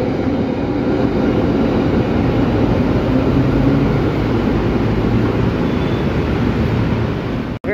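A KRL commuter train pulls away from Bekasi station with a loud, continuous roar and rumble that holds steady for several seconds and then stops abruptly at the end. No voices.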